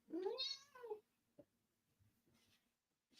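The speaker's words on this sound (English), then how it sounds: "I don't know what that kind of meow was." Household cat meowing close by, with a long, loud, drawn-out meow at the start, then softer short chirps and mews, in an otherwise quiet room.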